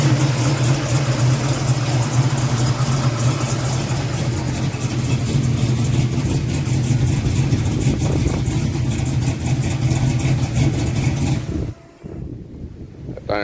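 A car with a 3-inch exhaust system idles loudly and steadily close to the microphone, its deep rumble pulsing with slight revs before dropping off abruptly near the end.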